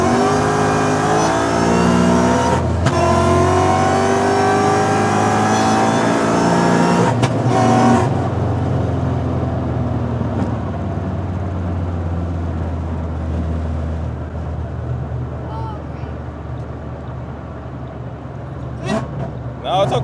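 A modified car accelerating hard on a test hit, its loud engine roaring steadily up close, then easing into lower drivetrain rumble and vibration with brief voices near the end.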